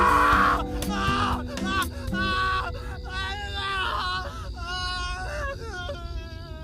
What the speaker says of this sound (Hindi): तभी जंगल के अंदर से दर्जनों लोगों की चीखें सुनाई देने लगीं।